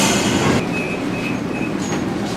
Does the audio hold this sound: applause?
no